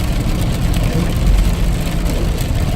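A heavy truck engine rumbles loud and close while downshifting into third gear, a sustained low drone with a slight swell in the middle.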